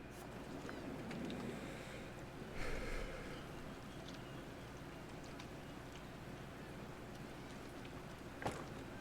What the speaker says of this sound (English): Cold rain is washing off the fish guts anyway.